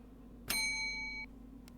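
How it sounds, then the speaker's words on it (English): A single bright bell strike rings out clearly and sustains for under a second before cutting off sharply, over a steady low hum. "The bell."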